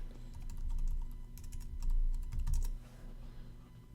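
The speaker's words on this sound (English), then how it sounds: "I'm just gonna type it in." Quick bursts of typing on a computer keyboard, close and fairly quiet, with irregular clusters of key clicks over a low background hum.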